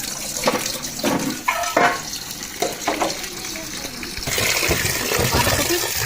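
Tap water runs and splashes over freshly cut cabbage being washed, with intermittent sloshing bursts that give way to a steadier, louder flow near the end.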